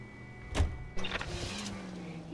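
A car door thumps shut in the L.A. Noire video game, followed by the car's engine starting and settling into a low idle, all fairly close and at moderate volume.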